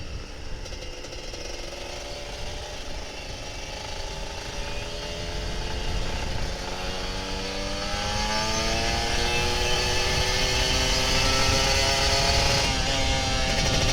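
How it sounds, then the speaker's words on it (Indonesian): An older Kawasaki Ninja RR 150 two-stroke motorcycle revs repeatedly, its engine note climbing in pitch and growing louder over time, close and alone with no talking. "Iya gue bejek dulu mesinnya, masih pagi kan"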